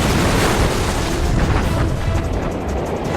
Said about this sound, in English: The bombs impact precisely,